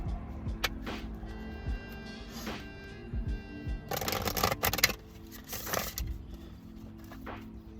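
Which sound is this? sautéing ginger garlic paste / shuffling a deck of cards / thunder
shuffling a deck of cards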